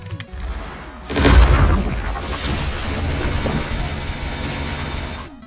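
A bomb explodes in a 2v2 anime fighting video game, a deep booming blast followed by a sustained rumbling roar that tails off after a few seconds.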